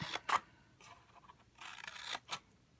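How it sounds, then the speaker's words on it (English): Scissors cut a paper rectangle off a sheet while making a paper treat pouch, with a handful of quick, crisp snips and paper rustle between them. The sound is quiet and close, with no talking. "You're going to cut off that rectangle."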